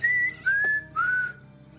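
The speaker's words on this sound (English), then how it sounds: "So definitely somebody's just whistling" Three rising whistled notes, clear and melodic like birdsong, sound in close succession within Gabriel Knight's Bavarian game setting, each held briefly with short gaps between, fairly loud and alone.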